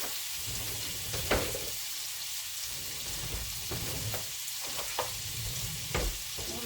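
Butter sizzling and frying around a pork sirloin roast in a pan on the stove, a steady close crackling hiss with occasional louder pops and stirring scrapes.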